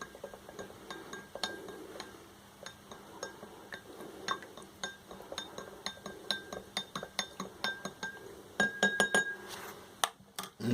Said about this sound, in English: And we'll give that a quick stir.